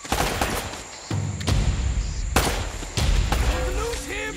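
Gunfire in Uncharted: The Nathan Drake Collection, several sharp shots breaking out over a busy combat soundscape, with game voices shouting in between.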